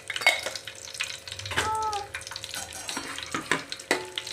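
Cumin seeds crackle in hot oil with bay leaf, black cardamom, cinnamon and peppercorns, stirred with a spoon; a soft steady sizzle under scraping strokes and a few sharper clinks, close by.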